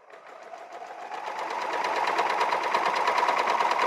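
A Bernina overlocker stitching a balanced overlock seam starts up and speeds into a steady, rapid mechanical whir with a fine rhythmic chatter, getting louder over the first couple of seconds and then holding close and even.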